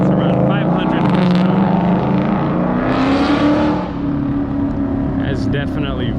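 A loud car engine of around 500 horsepower with a full exhaust rumbles steadily with a deep, throaty exhaust note, rising in pitch briefly as it revs, close by.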